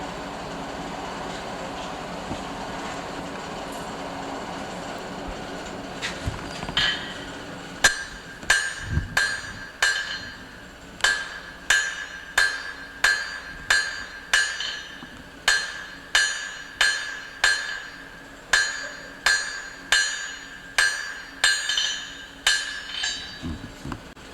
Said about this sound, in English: We want to forge it down so it fits snugly into our tool.